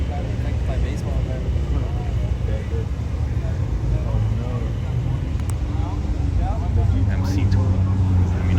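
A Mustang and other cars pull away from a Porsche meet, a loud continuous engine rumble and roar of passing traffic, with people talking over it.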